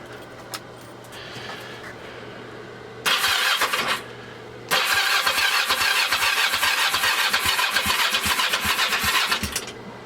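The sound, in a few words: abandoned Ninja 500 motorcycle engine cranking over, first start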